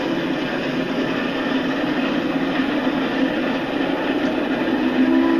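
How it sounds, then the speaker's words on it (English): Train rolling through mountain scenery in the Michael Cimino Western film, a steady, continuous rumble of moving rail cars held at an even level throughout, with no speech. "the train going through the mountains here"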